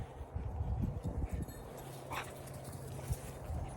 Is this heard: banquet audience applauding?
no